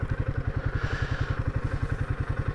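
A Royal Enfield Himalayan 450 motorcycle rides along the Gosport coastline, its engine throbbing in a fast, even pulse that stays loud and close throughout, with wind rush above it.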